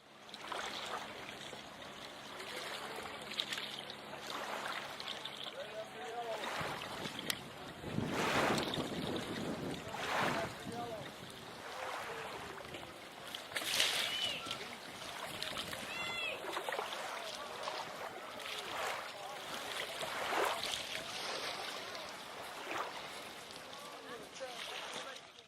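A traditional tribal journey canoe with its full crew aboard paddles west during a final canoe parade, heard as steady wind and water wash with faint splashing and a few murmured voices over the open water.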